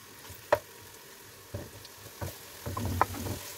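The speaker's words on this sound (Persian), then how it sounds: "تو همون یه ذره روغن کوفته ریزه ها رو یکم تفت دادم" Small meatballs frying and being stirred in a pan with a little oil beside softened onion: a steady low sizzle broken by several sharp scraping clacks of stirring, growing busier toward the end, with no talking.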